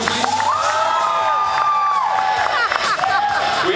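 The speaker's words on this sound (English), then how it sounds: "Can we have another round of applause, please?" A lively audience at an air guitar contest at the Irish Blog Awards 2011 cheers and whoops loudly, with shouting voices rising over the crowd noise throughout.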